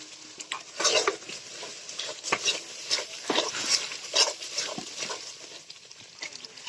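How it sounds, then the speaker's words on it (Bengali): Spices being stir-fried with shrimp, turmeric and chili before boiled, blended taro root goes in: loud close sizzling with repeated rhythmic scraping strokes of a spatula against the pot. "ভালো করে মশলা কষানোর পর টান কচু দেওয়া হচ্ছে"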